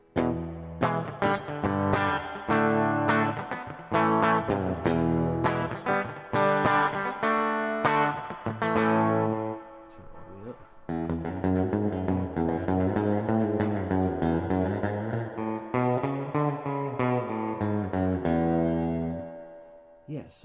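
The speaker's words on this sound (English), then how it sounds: "Finally, I want to see how the spring reverb sounds on." Guitar chords played through a Boss ME-80's spring reverb effect ring out with a splashy, lingering reverb tail, loud and continuous, with a brief spoken aside partway through.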